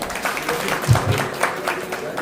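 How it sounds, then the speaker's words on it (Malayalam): Applause at a devotional bhajan program at the Mini Sabarimala temple, a dense crowd clapping for the song's writer, a brief steady wash of hand claps with a little voice mixed in. "ആദ്യം അങ്ങനെ എഴുതാൻ തോന്നിയ ഒരു മനസ്സിന് ആദ്യം ഒരു വലിയ കയ്യടി കൊടുക്കാം"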